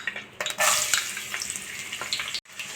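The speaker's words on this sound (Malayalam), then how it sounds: "ചിക്കൻ ഫ്രൈ ചെയ്ത എണ്ണയിൽ നിന്ന് ഒരു 2 ടീസ്പൂൺ എണ്ണയാണ് എടുത്തിരിക്കുന്നത്. അതിലേക്ക് ഞാനൊരു 8 അല്ലി വെളുത്തുള്ളി ചെറുതായിട്ട് അരിഞ്ഞതാണ്." Chopped garlic dropped into about two teaspoons of hot oil left from frying chicken bursts into a loud, close hiss that settles into a steady sizzle, with a brief gap near the end.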